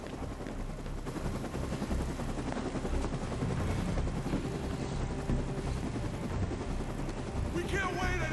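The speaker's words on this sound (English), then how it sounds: "Get back on the chopper!" Rescue helicopter in the Dead Rising 2 video game: a loud, dense, continuous rotor roar fills the whole stretch, with rapid gunfire-like crackle mixed in.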